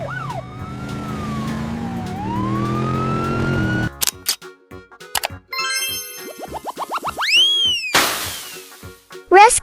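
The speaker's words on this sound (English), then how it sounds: "This is a motorcycle ambulance." A motorcycle ambulance siren wails in a rising and falling sweep, then gives way to rapid chirping, yelping electronic tones and short bursts, loud and close.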